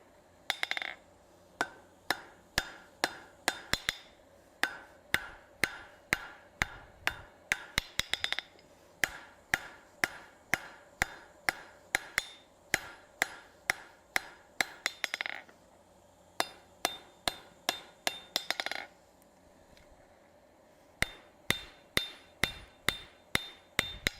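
Steady hammer blows ring on hot metal while a hand towel bar is hand-forged, sharp clinking strikes in rapid rhythmic runs with short pauses between groups, close and clear with no talking.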